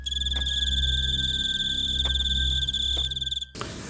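Crickets chirp at night in a steady, high pulsing trill over a low hum on a quiet street, continuous until an abrupt cut near the end.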